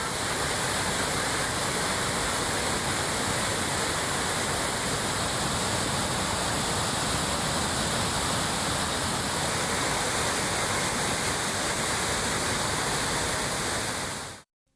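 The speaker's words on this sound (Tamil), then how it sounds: "இதனால் அருவியில் தண்ணீர் ஆர்ப்பரித்து கொட்டுகிறது" A flooded waterfall swollen by monsoon rain roars in a steady, dense, loud wash of falling water that continues unbroken with no voices, then cuts off at the end.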